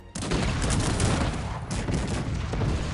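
Dense battlefield gunfire and artillery from the video game Cossacks 3 crackle in a continuous loud barrage of overlapping musket volleys and booms.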